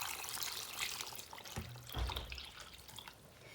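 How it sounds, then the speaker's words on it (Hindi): Boiling hot water is poured over raw tripe in a kitchen to clean it, a splashing, trickling stream of liquid with a few brief low thumps, heard alone without talk. "इसके अंदर मैं ये गरम गरम उबलता हुआ पानी डाल दूंगी"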